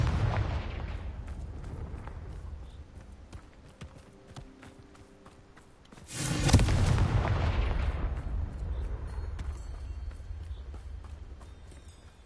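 Explosion spells Confringo and Bombarda cast in Hogwarts Legacy: rumbling blasts and crackling impacts in the first half, then a loud, sudden burst near the middle that decays into a long booming roar.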